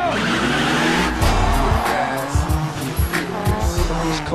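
Drift cars from the Tokyo Drift movie scene, engines roaring loud and close with repeated tire squeals and skids, a dense rush of motor noise throughout.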